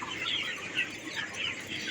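Chickens cluck and chirp in a poultry shed housing about 3,500 birds, a soft, busy chorus of overlapping calls heard at low level for a couple of seconds.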